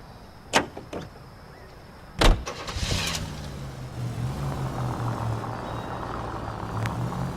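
Car in the video game L.A. Noire: a couple of door clunks and a sharp slam, then the engine starts and settles into a steady low idle rumble, close and alone.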